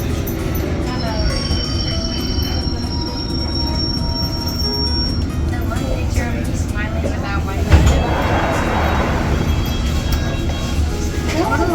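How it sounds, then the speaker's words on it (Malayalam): A London Underground District Line train runs toward Upminster, a steady loud rumble of wheels on track with metallic squeal and rattling carriage noise throughout, with a brief louder clunk partway through. "This is a district line train to Upminster"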